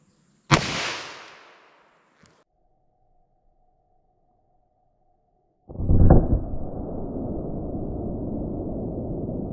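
A full-size .38 Special handgun fires a single loud shot in a ballistic test, its sharp crack decaying over about a second and a half. After a pause comes a faint tone, and then a steady, broad rushing noise.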